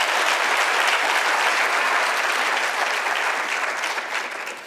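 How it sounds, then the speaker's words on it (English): Graduation ceremony audience gives dense, loud applause from the start, continuous and even, easing slightly toward the end. "You deserve a round of applause"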